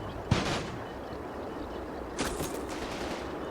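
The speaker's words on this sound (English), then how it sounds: "it starts taking fire from, I think it's a bar rifle" Rifle fire from a BAR in a World War II video game battle, with a sharp shot early on and a second burst of gunfire about two seconds later over steady background noise.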